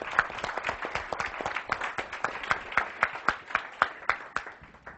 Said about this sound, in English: Well, first, let's clap.